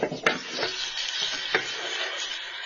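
Flour stirred into melted butter in a pan over low heat for a cheese dip, giving a steady soft sizzle with scraping spoon strokes and a few sharper clinks against the pan.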